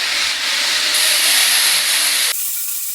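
A Handy Hat Maker circular knitting machine being cranked, giving a loud, continuous hissing whir that holds steady for a few seconds, then drops to a softer hiss.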